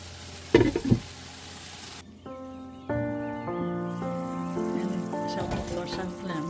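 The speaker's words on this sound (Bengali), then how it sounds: "এটাকে খুব ভালোভাবে আমি কষিয়ে নেব" Spiced masala sizzles and is stirred in a pan while being cooked down for a fish curry, a soft frying hiss with a few scraping stirs near the start, under a tonal background sound and brief speech.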